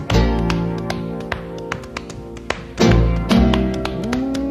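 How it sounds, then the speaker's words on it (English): Sharp rag-popping snaps keep time in a recorded song, a run of crisp percussive cracks over a full band with no talking. "It's a wonder that the rag don't tear the way he makes it pop."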